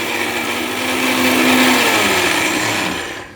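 An electric blender grinds hard dried chickpeas into gram flour with a loud, steady whirring roar that swells and then winds down at the end, with no voices over it.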